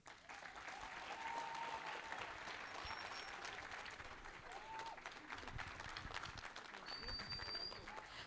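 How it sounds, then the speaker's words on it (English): An audience at a 2024 conference applauds after a speech, giving sustained, even clapping from a crowd that fills the room, with faint voices underneath. "A round of applause, please."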